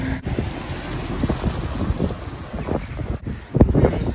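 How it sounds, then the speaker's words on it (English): Strong wind buffets the microphone beside a narrowboat on a canal at Welford, a gusty, rumbling roar that rises and falls throughout with brief dropouts, and no talking. "It is so windy."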